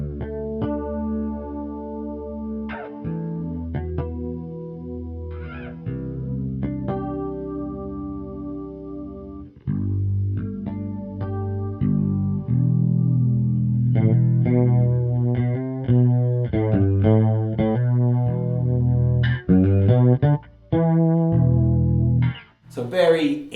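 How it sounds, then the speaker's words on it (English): Bass guitar on its rear pickup played through a subtle chorus effect, giving a lush, shimmering 80s tone; sustained low notes give way to busier, punchier phrases, steady and close throughout. "So that's a very subtle chorus."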